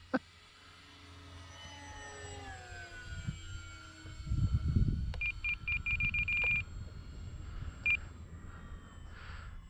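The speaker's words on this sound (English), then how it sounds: "if you're hearing that beeping sound, that's just me adjusting trim" An RC transmitter gives short bursts of high electronic beeps as trim is adjusted, over the hum of a model airplane engine flying overhead.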